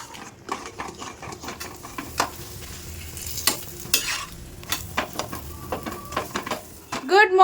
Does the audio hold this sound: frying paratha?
yes